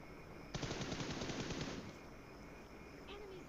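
A rapid automatic burst of video game gunfire fires at an enemy, loud and close, rattling steadily for just over a second before cutting off. Quieter game ambience follows.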